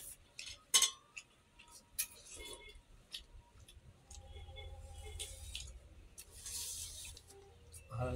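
Plates and cutlery clink at a home meal of rice, fish curry and vegetables, sparse, faint sharp taps and scrapes scattered over a quiet room with a low rumble.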